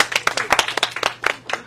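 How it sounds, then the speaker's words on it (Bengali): Scattered, uneven hand claps from an audience at a live event in a Saha Textile store, a dozen or so sharp slaps close by, with a faint voice underneath. "আবার একটা হাততালি হয়ে যাক।"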